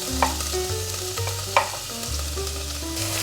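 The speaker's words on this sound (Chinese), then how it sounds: "油热了，把刚刚打好的黄姜放进来" Ground turmeric paste fries in about two tablespoons of hot oil in a wok, a loud steady sizzle with occasional sharp stirring clinks and a low background hum.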